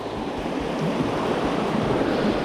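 Swift river water rushes past on a trout stream, the Williams River, as a loud continuous broadband roar that stays steady and close with no voices.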